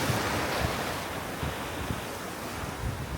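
Ocean waves wash in at a beach on Tasmania's Bay of Fires, a steady broadband surf roar with low rumbles swelling and receding, mixed with wind buffeting the microphone, close and continuous with no voices.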